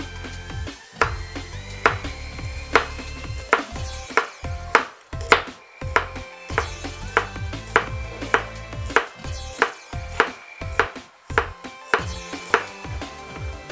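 A knife chops a cleaned carrot into thin slices on a board, with steady, evenly spaced cuts landing close and crisp, about one each second, and no voices over them.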